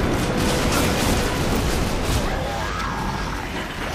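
A frag grenade blast in Gears of War 2 during a gunfight, the boom part of a dense, continuous roar of gunfire and battle noise with no clear pause.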